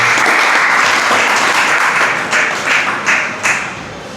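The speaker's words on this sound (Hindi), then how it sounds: "ताली बजाओ।" Applause from an audience in a religious teaching session, a loud burst of many hands clapping close by that thins into scattered claps and fades out.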